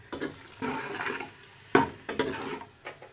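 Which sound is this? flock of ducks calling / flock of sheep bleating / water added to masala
water added to masala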